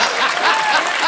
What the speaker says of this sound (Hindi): साइना के लिए जोरदार तालियां